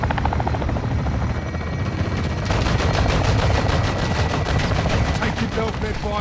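Gunfire from the video game Modern Warfare 2 Remastered rattles in rapid bursts over a loud, continuous helicopter rotor drone, with the shooting growing denser and heavier in the second half.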